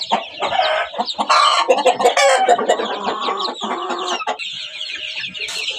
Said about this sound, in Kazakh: Қораз тауықтар.